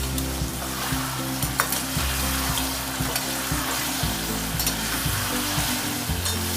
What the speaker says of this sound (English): I'm just going to put in all the pieces and I'm going to fry for around 5 minutes